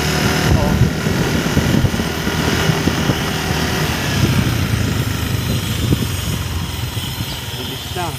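A Yamaha NMAX 155cc scooter engine while riding, a steady droning hum blended with heavy, constant wind rush that stays level throughout.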